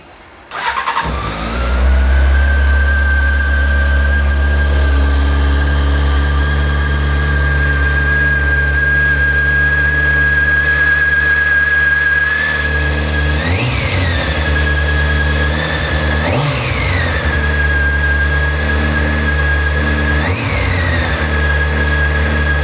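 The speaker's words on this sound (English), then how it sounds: "Now I'm gonna let it idle for a second." A Honda CBR600F4i motorcycle under rebuild cranks and fires up, then settles into a steady, loud idle with a constant whine, with a few short throttle blips near the end.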